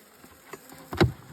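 Honey bees buzz around beehives during an inspection in a yard of 40 to 50 hives, a soft insect drone that swells loudly as a bee passes close.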